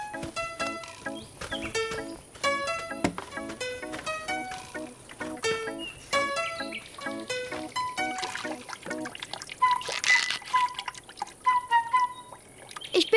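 Cartoon water pours from a watering can onto a little flower, heard as a bright sequence of musical, plinking drip and trickle sounds in a rhythmic pattern, with a softer sparkling splash near the end.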